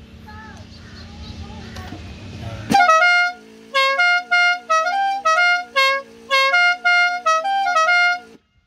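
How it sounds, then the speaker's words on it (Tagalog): A loud musical horn on a passenger jeepney plays a rapid tune of short honked notes in bursts, following quieter background noise and muffled sounds. "Parang musical horn eh, no? Musical horn siya"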